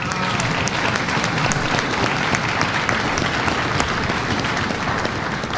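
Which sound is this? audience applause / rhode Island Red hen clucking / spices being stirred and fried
audience applause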